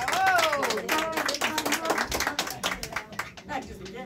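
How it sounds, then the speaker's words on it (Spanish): Applause and clapping from the audience at a mariachi youth band's birthday performance, a burst of hand claps mixed with loud voices and a sung or shouted line over the top. "Sí, señor, fuertes aplausos"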